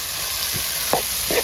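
Shallots and garlic frying in a pan for a squid roast, with a steady sizzle and a few soft scraping stirs of a spoon against the pan.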